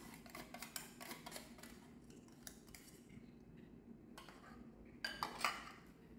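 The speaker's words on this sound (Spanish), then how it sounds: "con la espátula distribuimos hacia los costados y que vaya chorreando" A spatula spreads coconut topping over a cake, giving soft scrapes and light metallic taps and clinks that come in brief bursts with quiet gaps between them.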